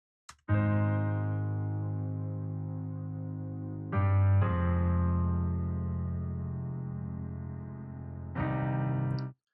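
Warm, sustained synth pad chords built from saw waves swell and hold, changing chord twice, full and buzzy in the mids and lows with no voices.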